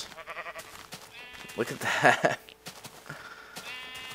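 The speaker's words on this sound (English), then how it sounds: "Damn, this is sheep central here." Minecraft sheep give a couple of bleats in the middle, close and clear, while someone talks before and after.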